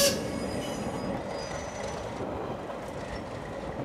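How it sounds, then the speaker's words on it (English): A modern train on the White Pass narrow gauge railroad rumbles steadily near, with a continuous broadband roar, rail noise and faint high wheel squeal, and no talking. "a modern train takes us to the summit."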